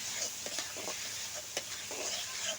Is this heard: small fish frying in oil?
yes